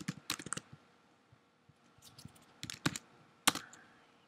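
Computer keyboard typing in a few quick bursts of clicky keystrokes, close and fairly quiet, with short pauses between the runs.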